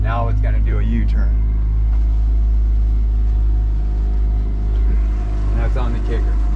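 A Searanger Arima hardtop boat with a Yamaha F150 outboard idles under autopilot as it turns, giving a deep, steady, close engine rumble with water and hull noise, while someone talks over parts of it.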